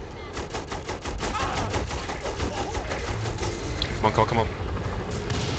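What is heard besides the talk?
gunfire in video game Saints Row: The Third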